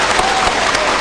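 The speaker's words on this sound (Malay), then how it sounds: "Kita berikan tepukan sekali lagi kepada ketiga-tiga panelis pada malam." Audience applause at an evening Malaysian public forum in Kedah honouring three panelists: a dense, steady clatter of many clapping hands filling the room throughout, with no voices.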